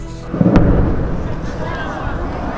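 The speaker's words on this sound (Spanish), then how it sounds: "quedó registrada la detonación de artillería en edificios ya destruidos por la guerra" Artillery detonation striking already war-ruined buildings in Gaza: one deep, loud boom about half a second in, followed by a long rumbling decay with faint background voices.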